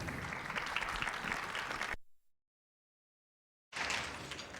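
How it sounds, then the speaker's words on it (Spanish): Audience members at a conference on fiscal defense and public law applaud to welcome a speaker. Loud, continuous clapping for two seconds cuts to near silence, then the applause resumes abruptly at full strength. "Les invitamos a recibirlos con un fuerte aplauso"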